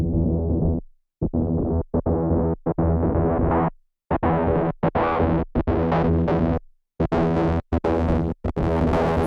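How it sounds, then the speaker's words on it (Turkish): A distorted, resonant synth in a cyberpunk-style EDM track plays in chopped, rhythmic bursts with short gaps, its low-pass filter sweeping open so the tone grows brighter and buzzier across the phrase. "Filtre yüzünden oluşan rezonans cızırtılarını hafif azaltmak adına sesin çıkış seviyesini biraz kıstım"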